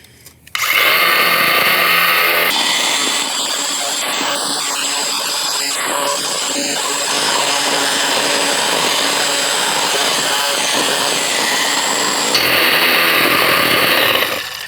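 A trenching tool with a chainsaw-like cutter grinds a narrow trench through hard ground, a loud, steady, raspy engine-and-chain roar running nearly nonstop, close up, with a brief lower idle before it starts.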